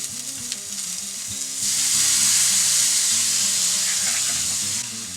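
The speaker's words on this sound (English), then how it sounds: "I'm going to let that cook for about a minute and a half and let that garlic soften up" Garlic and capers frying in a pan with lemon juice, a loud close sizzle that swells into a bright steady hiss midway and eases near the end, with no voices.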